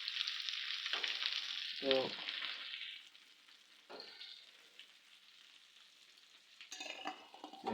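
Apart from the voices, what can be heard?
giant freshwater prawns (golda chingri) frying in a pan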